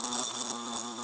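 A ground bee buzzes continuously and close, a steady droning hum with slight wavering pitch for about a second, with no other sounds.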